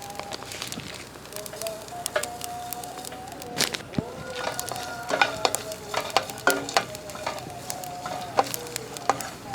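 Peanuts and sesame seeds roasting in a pan for Kerala neyyappam, a steady low sizzle with irregular scraping stirs and sharp clinks of the spatula throughout, close and moderately loud, with no one speaking.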